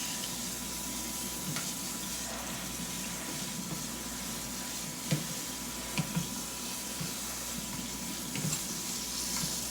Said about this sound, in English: I just make sure I rinse it really good.